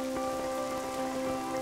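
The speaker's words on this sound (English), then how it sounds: "Another dose of invigorating Welsh rain." Rain falling on muddy fields in Wales, a steady patter of drops with a constant low hum beneath, moderately quiet and unbroken.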